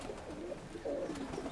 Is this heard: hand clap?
no